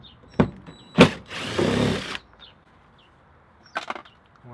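A power drill with a Torx bit backs screws out of an interior cover panel in a 2018 Mercedes Sprinter 4x4 van, giving two short whirring bursts and then a longer steady run, with faint clicks afterward.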